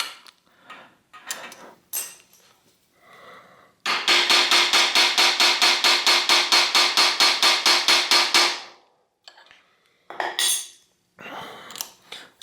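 Metal-on-metal tapping on a vintage Italian bicycle bottom bracket pin: a long fast run of about twenty even, sharp, ringing taps, close and loud, with scattered lighter knocks and clicks before and after.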